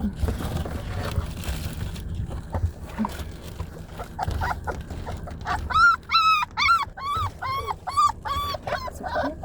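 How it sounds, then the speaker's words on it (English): A dog whimpers, then lets out a run of high, repeated yips over the last few seconds, close to the microphone, after a stretch of quieter rustling and low background rumble. "Dog."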